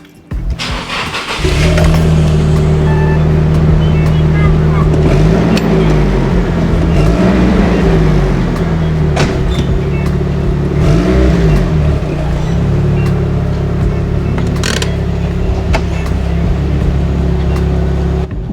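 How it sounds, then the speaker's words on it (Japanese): A Nissan RPS13 180SX with a 20DET engine, stock turbo, dual front pipe and straight-pipe exhaust revs loudly and steadily, the engine note rising and falling through repeated throttle blips over a constant idle rumble, alone without talk. "マフラーサウンドもいきます。"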